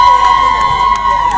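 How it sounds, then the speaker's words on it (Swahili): A crowd cheers and shouts at a live sponsored event, a loud sustained roar of voices with whoops over a steady tone. "Wapi kelele ya Mr. Moora tafadhali?"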